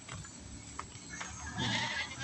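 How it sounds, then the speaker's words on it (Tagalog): Goats bleating on a farm among rice paddy dikes, several calls rising over steady outdoor ambience, with a louder, denser burst of bleats near the end. "Mga kambing, may mga kambing sa mga pangga."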